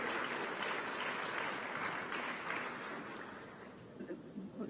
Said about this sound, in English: And as we can give a round of applause.